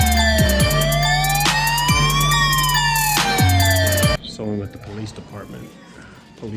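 Police car siren sounding right behind a vehicle, loud wailing and yelping tones sweeping up and down close by for several seconds before cutting off, followed by quieter background sounds.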